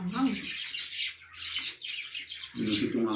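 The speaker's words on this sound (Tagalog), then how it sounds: "Mga ibon natin, kinatahan pa ako." Pet birds chirping indoors during a family meal: bright, repeated high tweets and trills run through most of the clip, fairly close, with low voices murmuring in between.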